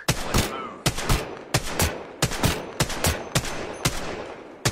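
Rapid bursts of video-game gunfire, about eight sharp volleys in an uneven rhythm, each a loud crackling blast with a short tail, close and continuous with no talk.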